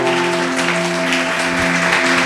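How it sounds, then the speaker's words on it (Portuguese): A worship congregation gives sustained, dense applause for the Lord, a continuous wash of many hands over a steady musical drone. "Palmas para o Senhor"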